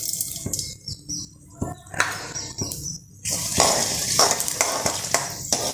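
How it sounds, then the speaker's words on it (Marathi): Mustard and fenugreek seeds crackle in hot oil for a pickle tempering, with scattered spattering pops and stirring scrapes that build into a continuous loud sizzle. "तेल गरम झालं आहे आता आपण मोहरी टाकूयात ही एक चमचा मेथी टाकूयात"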